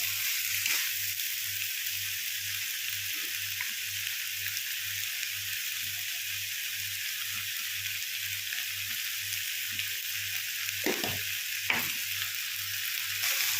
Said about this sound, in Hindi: इनको चला लेंगे, 3 से 4 मिनट तक भूनेंगे।